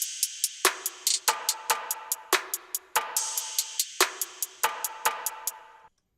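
A dry bounce snare hit repeats in a steady rhythm, each strike trailing off into a short, heavy reverberant tail, with no voices.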